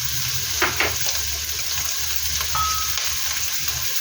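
Onions and meat stir-frying in a hot pan for chao fan, a steady loud sizzle with a few scraping stirs near the start, close up with no talk.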